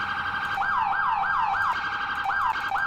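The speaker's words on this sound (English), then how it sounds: "so you can change the siren tones." Police siren in the EmergeNYC video game wails in a rapid, repeating yelp pattern, loud and steady throughout with no talking.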